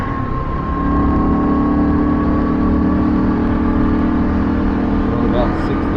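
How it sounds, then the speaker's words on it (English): A Kawasaki KLR650 fitted with DR650 forks cruises on a freeway, its single-cylinder engine droning steadily under heavy wind rush after a brief throttle-up at the start. "Alright, freeway test with the DR650 front end."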